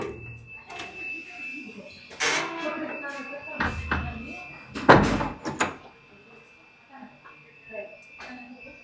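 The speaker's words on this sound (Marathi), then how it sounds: "दरवाजा लावून घे." A door is shut indoors: a couple of solid thuds and a louder clattering slam stand out among people talking, with a faint steady background tone.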